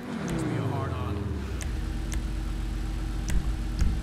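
A car engine in a customs shop in GTA 5 Online revs up with a rising whine, then settles into a steady, loud idle.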